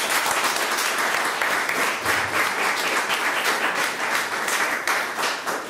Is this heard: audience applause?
yes